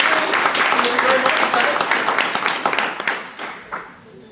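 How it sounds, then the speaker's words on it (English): An audience at a high school board of education meeting gives a round of applause for FCCLA students, brisk dense clapping that starts full and gradually thins out and fades toward the end. "one more big round of applause for the FCCLA"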